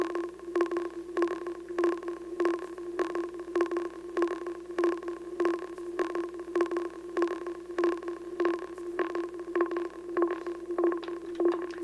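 A steady synth pattern from an M8 tracker repeats in even, rapid pulses with a steady drone underneath, each note smeared by a washy reverb set to 60.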